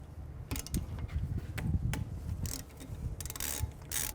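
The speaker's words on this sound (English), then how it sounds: "I'm going to use a 10mm socket." A ratchet fitted with a 10mm socket works loose the brake caliper bolts on a 2011–2015 Chevy Cruze front wheel, giving repeated mechanical clicking bursts with metallic knocks, close and moderately loud, with no talk.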